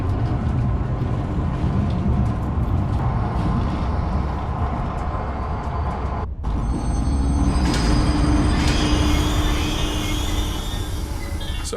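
A train rumbles steadily along its track in the video game Zoochosis, a loud continuous roar of wheels and carriage with a brief cut midway, then squealing and whining tones as it keeps running.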